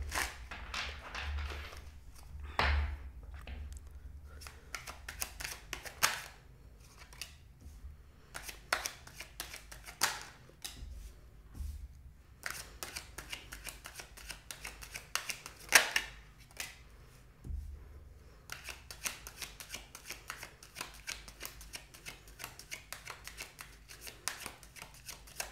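Repeated bursts of tarot cards being shuffled and riffled, close and fairly quiet, with brief pauses between passes.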